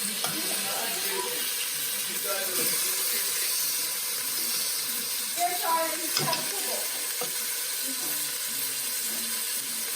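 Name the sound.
searing braciole in a gravy pot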